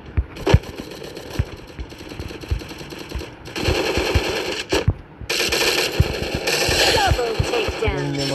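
Rapid bursts of gunfire from the mobile battle royale game Free Fire, played on a POCO F3 phone, crackle in dense repeating volleys that grow louder and fuller midway, with brief pauses between automatic strings of shots.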